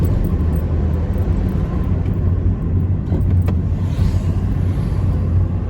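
A car powers hard out of a lane, its engine a loud, steady, close rumble that holds strong for the whole stretch, with no voices over it.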